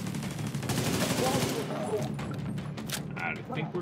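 Automatic gunfire in The Division 2 during a hostage mission at the Nelson Theatre, a steady rattling barrage for the first half that thins into scattered shots, with people talking over it.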